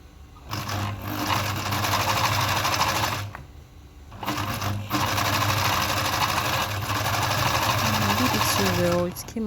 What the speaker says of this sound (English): So I'm just going to be running a test and keep sewing.